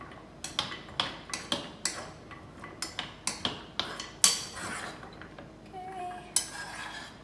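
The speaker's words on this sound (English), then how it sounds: "So you can take your spoon and just kind of move them around." A spoon scrapes and clicks against a pan as macadamia nuts are stirred in a buttery sauce, quick, close, rhythmic taps that slow toward the end, with a brief spoken word.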